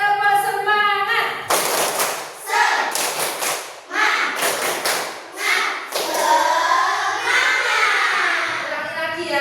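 A class of children performs the 'tepuk semangat' rhythmic clapping chant, voices chanting in unison between loud sets of patterned claps and thumps, fairly close and energetic.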